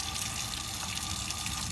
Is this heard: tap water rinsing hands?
yes